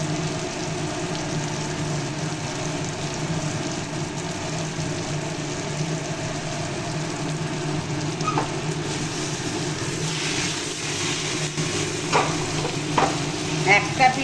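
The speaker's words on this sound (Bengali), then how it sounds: "একটা পিঠ যখন হয়ে যাবে আপনারা তার আওয়াজেই বুঝতে পারবেন, একটু চচ্চর চচ্চর করে আওয়াজ হবে।" Kochur loti (taro stolons) fry over a low to medium flame in a pan, giving a continuous sizzle with occasional stirring scrapes and crackles that grow busier toward the end.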